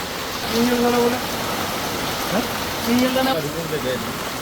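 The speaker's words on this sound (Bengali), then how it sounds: "কি পরিমাণ বৃষ্টি!" Heavy rain falling late in the day near a house construction site, a constant wash of hiss with a voice speaking briefly over it.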